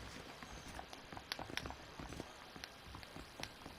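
Horse hooves clip-clop in an uneven walking rhythm in the video game Red Dead Redemption, faint and fairly close, with soft rustling between steps.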